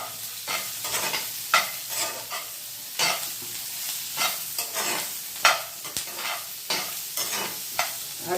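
Garlic, capsicum and green chili fried briefly in a pan, with a soft crackling sizzle broken by repeated scraping strokes of a spatula stirring at an uneven rhythm, close and fairly quiet.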